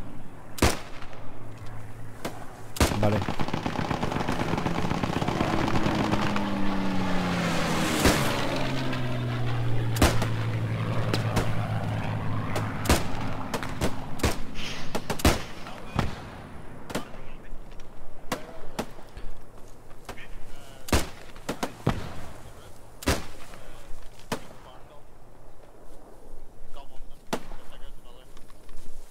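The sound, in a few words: gunfire in the video game Post Scriptum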